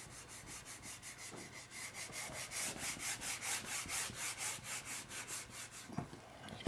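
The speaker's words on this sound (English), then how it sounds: "I'm going to have to rub it out for some more room." Writing being rubbed out to erase it gives rapid, rhythmic back-and-forth scrubbing strokes, close and steady for several seconds, then ends with a few light knocks.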